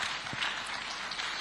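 Steady audience applause at a police public relations press conference in Abuja, a dense even patter of clapping held at moderate level throughout with no break.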